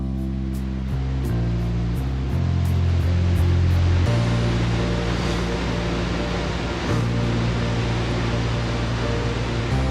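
Niagara's Horseshoe Falls, on the Canada–New York border, pours out a dense, steady roar of rushing water. It fills the scene evenly, with a low tonal hum running underneath.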